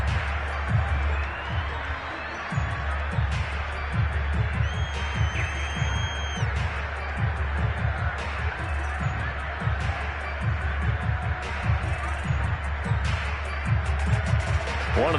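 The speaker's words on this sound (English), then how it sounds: "The crowd getting into it as we come up on a big 3rd down" A stadium crowd in Madden 22 football keeps up a steady, swelling roar and cheer, while a commentator talks over it throughout.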